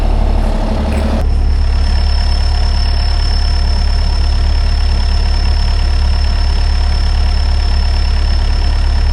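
Kubota and Takeuchi machines idle steadily as they warm up, a loud, continuous low engine drone close by with no talk.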